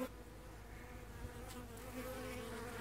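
Honeybees buzzing around a caged queen bee at an open hive, a steady close drone of wings that swells slightly toward the end, with no voices.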